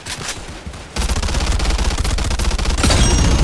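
Video game gunfire from a 64-round gun, a rapid sustained burst of loud automatic shots that rolls on without pause and grows denser and heavier near the end.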